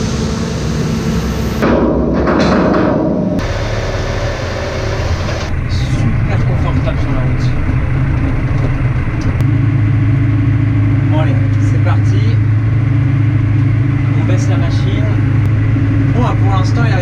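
A Claas Arion 460 Stage 5 tractor pulls a seed drill across a field, its engine droning steadily and loudly throughout with a brief clatter early on.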